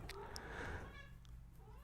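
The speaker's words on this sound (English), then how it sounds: "that was my cat." A pet cat meows a couple of times indoors, fairly faint and close, during a quiet soft-spoken setting.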